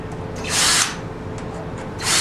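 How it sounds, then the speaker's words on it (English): Two short, loud bursts of a high-pitched power drill whine match-drilling holes in sheet metal, separated by a brief pause with faint background noise. "Match drill the rest of the holes."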